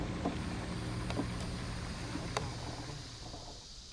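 A motorboat runs close by on the water during a fishing outing, a steady low engine rumble with wind and water noise that fades slightly toward the end.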